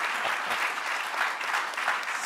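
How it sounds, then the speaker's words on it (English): Short burst of steady, dense applause from an audience at a panel event on delivering the SDG agenda, continuous and fairly loud throughout with no other sounds standing out. "So short applause thank for Borka."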